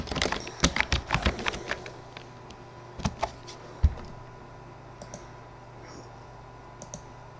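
Keys clatter on a computer keyboard in a quick burst of close clicks, then the typing slows to scattered single taps and faint clicks.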